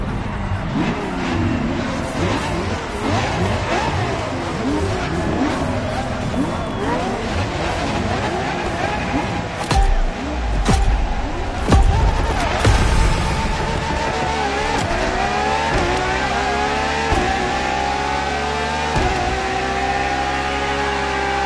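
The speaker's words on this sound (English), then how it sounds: "LaFerrari is the first Ferrari we have with an hybrid engine." Ferrari LaFerrari hybrid supercar racing in The Crew Motorfest, its engine loud and continuous with rising and falling revs, gear shifts and brief tire squeals throughout.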